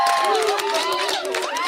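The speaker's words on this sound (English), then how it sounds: "we need to get some applause" A short burst of canned applause and crowd cheering plays on a country radio show, bright, loud and continuous, with shouts and whistles over the clapping.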